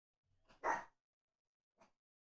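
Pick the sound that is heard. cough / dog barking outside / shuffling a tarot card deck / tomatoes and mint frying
dog barking outside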